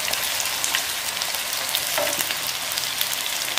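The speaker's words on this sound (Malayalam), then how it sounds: "നല്ല ശരിക്ക് കളറ ആയി മുരിച്ചെടുക്കണം" Snacks frying in hot oil in a coated pan, a dense continuous sizzle and crackle with scattered pops, close and fairly loud, with no voices.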